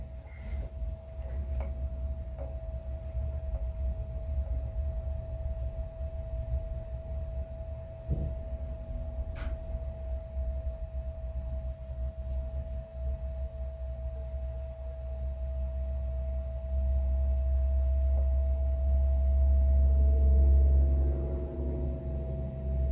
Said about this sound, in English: that's all the traffic that runs on our street behind the house